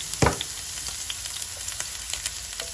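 Onion dropped into a hot pan, a sharp burst of sizzling frying followed by a steady lighter crackle and occasional pops, close and fairly quiet, in a home kitchen cooking shrimp paste with jackfruit and long beans.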